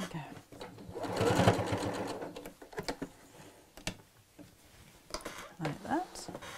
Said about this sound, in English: just give that a quick sew